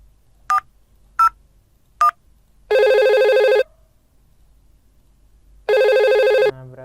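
A simulated VoIP telephone in Cisco Packet Tracer: three short dialing beeps, then two long, loud electronic ring bursts separated by a pause, with no talking.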